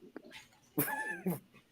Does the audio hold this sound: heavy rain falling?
no